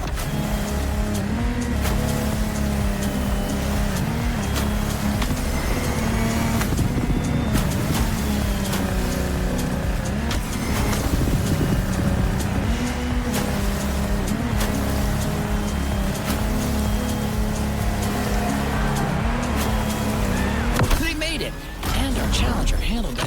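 Racing boat engines, including a Lamborghini Technomar, drone and rev continuously in The Crew Motorfest video game. The sound is loud and close, with sustained engine tones shifting in pitch and voices heard at times.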